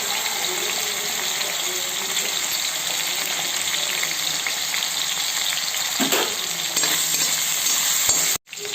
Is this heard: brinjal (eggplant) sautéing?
yes